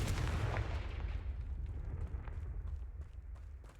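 Confringo blasting spells in Hogwarts Legacy set off a booming burst at the start, followed by rumbling, crackling blast noise that gradually fades over several seconds.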